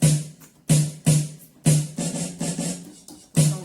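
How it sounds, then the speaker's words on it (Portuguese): A series of short, loud percussive hits from various percussion instruments, played back as a recording in a school art class, arriving in an uneven rhythm with brief gaps between strikes. "São vários sons, instrumentos de percussão."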